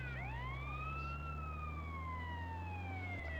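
A wailing ambulance siren from GTA San Andreas sweeps up and down in long smooth tones over a steady engine drone, loud and close, with no talk.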